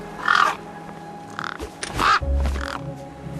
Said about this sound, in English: Ah, no! Damn birds!